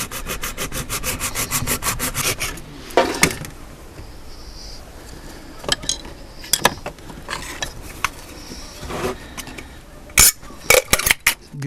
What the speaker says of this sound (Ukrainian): Беремо ножовку, робимо по кругу, отак пройшовся.